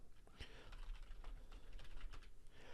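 Rapid, steady typing on a computer keyboard during sign-in on a domain-joined server, a fairly close, quiet flurry of keystrokes heard alone.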